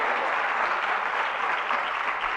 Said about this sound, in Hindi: जोरदार तालियां बजाइए बहन के सम्मान में।